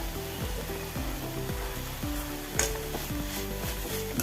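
Pumpkin leaves stir-fried with salt in a pan give off a steady sizzle with soft scraping stirs, heard beneath a background melody.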